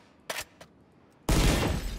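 Gunfire from the Bulldog assault rifle in Valorant: two short sharp shots come close together, followed after a pause by a louder, longer blast of fire, all heard up close with nothing else around them.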